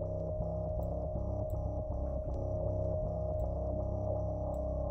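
A Sample Logic Empyreal synthesizer pad plays with a sine-wave LFO set to sixteenth notes and synced to the DAW. The sustained, layered tone is fairly quiet and pulses rhythmically, with no talk.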